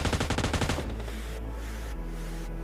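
Rapid automatic gunfire in PUBG Mobile, with a dense burst of close, loud shots for under a second and then a lingering echo and faint distant reports.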